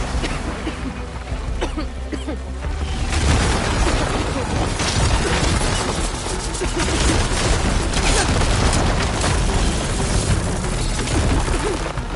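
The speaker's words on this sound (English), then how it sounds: "if we'll fire a few shots from that ballista" Ballista shots in the video game Horizon Forbidden West: dense, booming bursts and rapid impacts that swell after about three seconds into a loud, continuous barrage mixed with game noise.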